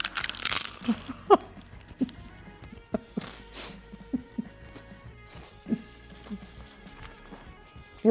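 Close chewing crunches of a homemade fried wonton taco shell, a series of short crisp clicks and crackles spaced out over several seconds against a quiet background.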